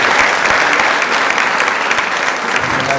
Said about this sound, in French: On applaudit pour eux.